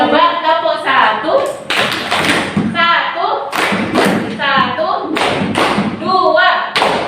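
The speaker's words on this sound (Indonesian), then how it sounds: "Coba tepuk satu" Young schoolgirls in a class clap a rhythmic cheer, with quick patterned claps and thumps repeating in bursts, close and loud, while a voice talks over them.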